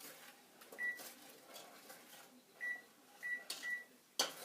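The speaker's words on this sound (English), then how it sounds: "I'm going to set the kitchen timer" A kitchen timer is set for one minute on a stovetop while making no-bake cookies, giving a few short, thin beeps spaced irregularly, followed by a sharp click near the end.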